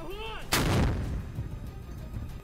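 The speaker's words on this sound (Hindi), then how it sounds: "फिर रॉकेट को लोड करके दाग दिया गया" A rocket launcher fires a rocket in combat near Mariupol: one sharp, loud near blast whose rumbling tail dies away over about two seconds, with a faint whine before it.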